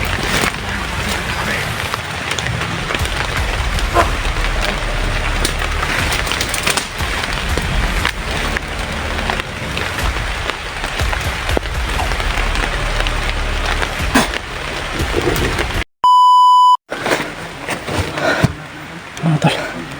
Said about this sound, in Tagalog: umuulan po mga tol